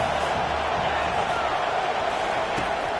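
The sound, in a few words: crowd cheering in NCAA 25 video game stadium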